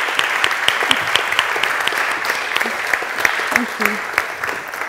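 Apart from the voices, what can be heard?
audience applause welcoming a speaker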